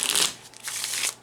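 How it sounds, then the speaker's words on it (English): Spanish playing cards of La Baraja Española are shuffled in two close, brisk riffling bursts separated by a brief pause. "I'm shuffling with the question in mind"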